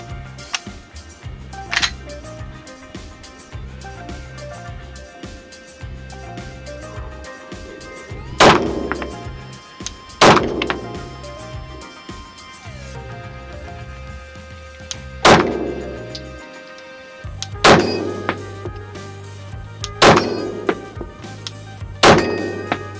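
Suppressed 9mm Glock fired with an A-TEC silencer using standard ammunition, a series of sharp cracking shots spaced several seconds apart over a low steady background hum, each with a short decaying tail.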